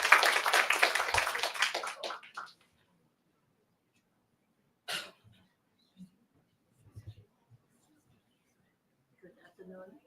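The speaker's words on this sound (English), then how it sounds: "Please give her a big round of applause." A short burst of applause at a new student orientation, steady clapping that fades out after about two seconds, then near silence with a few faint taps and rustles.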